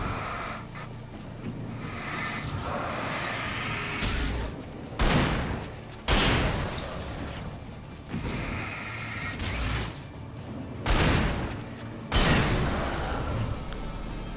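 A pump shotgun fires in the Alan Wake video game, four loud, close blasts at uneven intervals over a dark, droning background.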